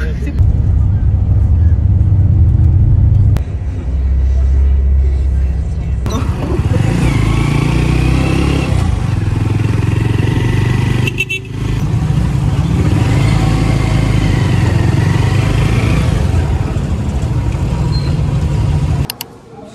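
A vehicle engine runs steadily throughout a ride on the way to a music festival in Clark, Pampanga, a loud continuous rumble with road noise, while people talk over it.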